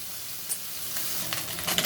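Fish pieces frying in oil in a pan, a steady close hiss of sizzling with a few brief crackles and pops, no talking.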